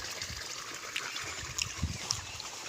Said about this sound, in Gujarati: મિત્રો આપણે અહીંથી પાણી આવે છે